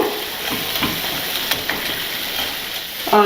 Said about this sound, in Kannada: ಇದು ಚೆನ್ನಾಗಿ ಕಲರ್ ಚೇಂಜ್ ಆಗೋವರೆಗೂ ಈ ರೀತಿ ಮಧ್ಯ ಮಧ್ಯ ಮಿಕ್ಸ್ ಮಾಡ್ತಾ ಬೇಯಿಸ್ಕೋಬೇಕು